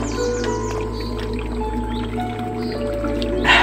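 Water trickles and gurgles steadily as a bottle fills from a running jungle stream, with faint birdsong in the background and a brief splash near the end.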